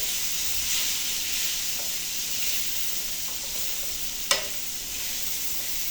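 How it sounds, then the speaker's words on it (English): Green beans almondine sizzle steadily in a pan, a continuous close hiss of frying with a few soft stirring scrapes and one sharp clink of the utensil near the end. "I want to give this a quick stir."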